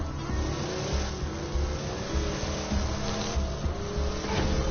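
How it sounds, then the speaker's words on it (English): Porsche Cayman GT4 Club Sport engine in a video game, a steady, loud, droning motor note that holds a constant rev with a slight pulsing throb and no voices. "Oh, a Porsche."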